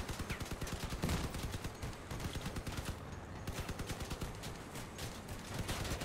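An autocannon fires in the Crossout vehicle combat game in rapid, rhythmic bursts of repeated shots. The bursts run almost continuously at moderate loudness, mixed with the rumble of battle and short pauses between volleys.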